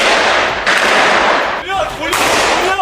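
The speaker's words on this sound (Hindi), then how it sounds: "अल शिफा अस्पताल में चल रहे इजराइल के ऑपरेशन के वीडियो में वो हमास के लड़ाकों पर फायरिंग करते नजर भी आए" Gunfire from Israeli soldiers during the Al Shifa hospital operation crackles in loud, rapid bursts with short pauses between them, sharp and close, with a voice faintly audible underneath.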